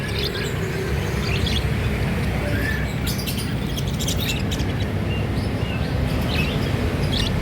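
Australian budgerigars chatter and chirp in a bird kiosk, with small high tweets scattered over a constant rumbling background noise, fairly loud and continuous throughout.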